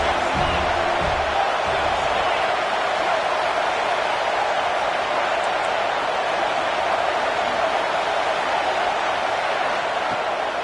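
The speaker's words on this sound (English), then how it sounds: "Big third down as the crowd gets behind this defense." Broad stadium crowd roar from the football game College Football 26, UCLA against USC, a dense steady wash of cheering on a third down that stays loud and unbroken throughout.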